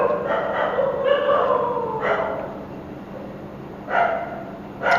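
Several dogs bark in short bursts, a quick cluster near the start, another around two seconds and a last burst near four seconds, all against a steady low background hum.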